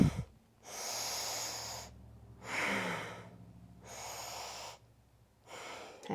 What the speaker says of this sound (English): Inhale. Use your breath. Breathe deeply.